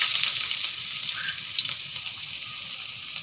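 Onion, garlic and ginger sizzle in hot oil in a pan while being sautéed, a steady close frying hiss with soft crackles throughout and no talking.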